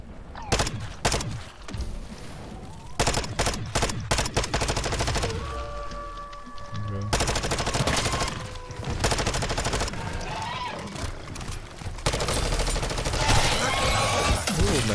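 Rapid gunfire from an SMG shooting zombies in MW3 Zombies, loud close bursts of automatic fire broken by brief pauses, with in-game tones and effects between volleys.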